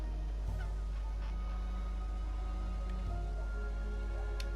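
Bird honking in Dreamfall Chapters, goose-like calls over a constant low hum and faint patter, repeated a few times at moderate volume.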